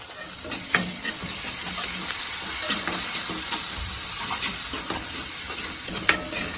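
Ginger-onion paste sizzles and fries in a pan while cooking a Kerala-style dish, a steady close hiss broken by a few sharp crackles and stirring scrapes.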